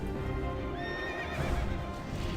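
A horse in World of Warcraft lets out a loud wavering neigh over busy game sounds, with hoof clip-clops mixed in.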